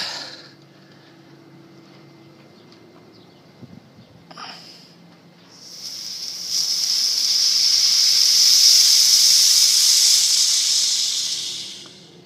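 Steam hisses loudly from a valve opened on a homemade boiler at 15 psi, a steady bright rush that rises after a short quiet stretch, holds strong for several seconds, then begins to fade.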